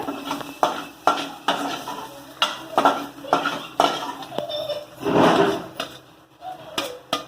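Cooked greens with grated coconut being transferred from a pan onto a plate, with a run of clanking utensil scrapes and metal knocks at an uneven rhythm and a fuller clatter near the end. No one speaks.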